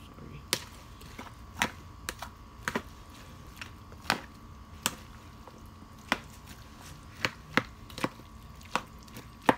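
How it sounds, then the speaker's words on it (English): Soft avocado being mashed and mixed into chunky guacamole, heard as a steady run of sharp, close taps and squishy strikes roughly every half second against a quiet background, with no talking. "As you mix it, the avocado is very soft"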